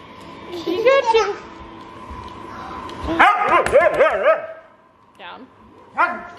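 A Siberian husky barks and yowls in close, loud bursts with wavering, talkative howls, pausing between outbursts while people talk nearby.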